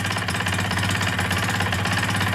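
A KSR Moto motorcycle's rebuilt AM6 two-stroke engine, fitted with a new cylinder, rings, crankshaft and bearings, runs on a lift with a steady buzzing, rattling drone, loud and continuous at close range.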